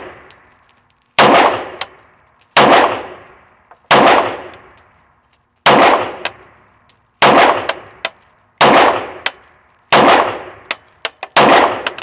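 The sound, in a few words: pistol gunshots hitting steel targets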